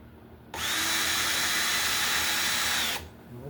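A power drill drives screws into a mounting for a Honeywell CT30A low voltage thermostat, one steady close whine of about two and a half seconds starting and stopping abruptly, with quiet room tone before and after.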